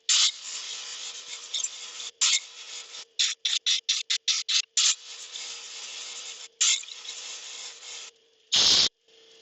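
Lapidary wheel grinding and polishing a stone cabochon, a steady raspy whir broken by repeated short stops and starts as the stone is lifted and pressed back, close and fairly loud with a faint low hum beneath.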